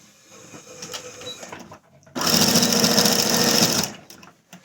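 A sewing machine stitches straight fabric seams, first with light handling noises, then a loud, fast mechanical whir lasting under two seconds before stopping, heard up close.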